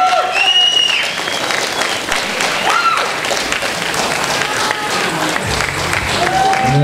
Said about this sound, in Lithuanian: būtų lengviau, jeigu lyderiui padėtumėm plojimais